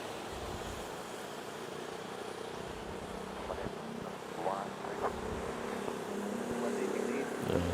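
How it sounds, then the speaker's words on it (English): A Singapore Airlines jet climbs away from the runway at Manila's NAIA airport, its engine roar steady and moderately distant, swelling slightly toward the end amid faint background noise. "Smooth takeoff by Singapore Airlines. A slow and easy glide up."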